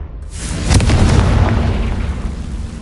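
A Confringo spell blast in the Hogwarts Legacy video game, a single booming explosion with a loud low-end burst that swells and then rumbles on, sustained, with no talking.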